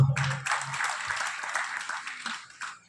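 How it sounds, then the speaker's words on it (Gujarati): Audience at a bhajan satsang gathering in Mahi village near Chhapi applauds to welcome two families, a dense, steady wash of clapping that starts almost at once and holds at even strength to the end. "સરદારભાઈ અને મુકેશભાઈ બે બંને પરિવારને તાળીઓથી વધાવો"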